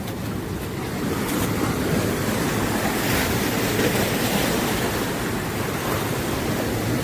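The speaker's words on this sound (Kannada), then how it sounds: "ಅನಾಹುತ ಅಲೆಗಳು ಬರತ್ತಾವ, ಇದ್ರ ಮೇಲೆ ಹತ್ತಂತ ತಡಿ." Big waves break and surge at Cola Beach, a loud, continuous roar of churning surf mixed with wind rumble on the microphone, steady throughout with no voices.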